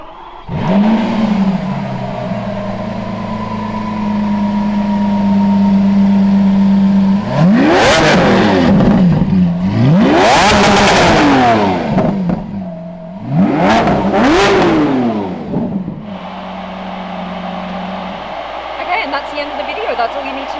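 A brand-new Lamborghini Countach supercar engine idling close by, then blipped through three loud, rising-and-falling revs, with a voice talking over parts of it.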